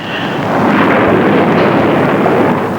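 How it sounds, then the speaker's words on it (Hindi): Thunder from a violent storm in a Pakistani film, a loud sustained rumbling roar that swells and holds for a few seconds with no voices. "बहुत बड़ा तूफान आ गया है।"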